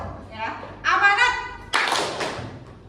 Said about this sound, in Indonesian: main tepuk tangan irama ya